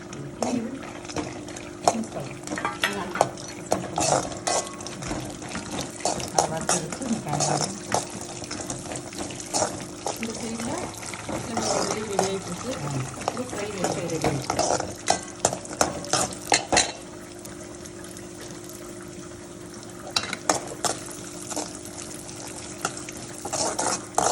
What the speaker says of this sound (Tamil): நெய் கொஞ்சம் காஞ்ச உடனே இந்த முந்திரி பருப்பு தட்டி வச்ச ஏலக்காவை இதில் போட்டு வறுத்து காய்ச்சிக்கலாம்